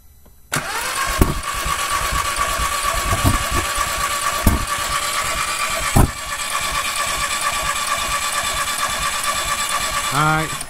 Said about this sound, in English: fire it and give it a little bit of gas as you're pumping it